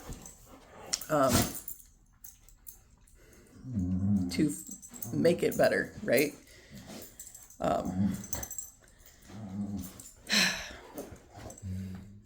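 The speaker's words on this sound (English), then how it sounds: "These dogs are gonna annoy me." Dogs whimper, growl and bark in bursts indoors at home, with a person talking over them at times.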